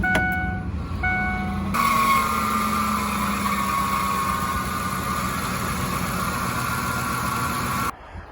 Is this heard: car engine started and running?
yes